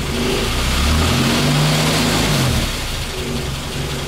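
A car engine runs close and loud, with a low, steady rumble and a slight rise and fall in pitch, heard alone without talk.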